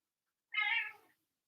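A cat gives a single clear, loud meow lasting about half a second, close by and alone, with its drawn-out tone tapering off at the end.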